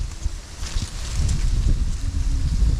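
Wind rushes and buffets against the microphone in a steady low roar on a small eggplant farm, rising slightly stronger toward the end, with faint rustling in the background.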